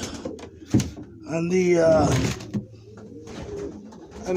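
Pigeons coo in a loft, with soft throaty calls rising and falling between a person's talk and some handling noises.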